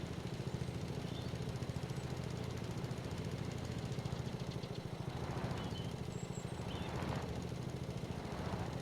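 A lawn mower engine idling steadily in the Farming Simulator 22 video game, a continuous low, even chugging drone at constant level and fairly quiet, without any talking.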